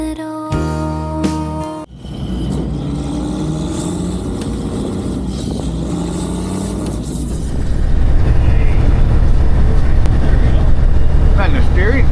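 A 1980 Caterpillar-powered K-Whopper truck engine drones loud and close while driving in high gear, its steady roar swelling even louder partway through, with a brief mechanical clunk near the start.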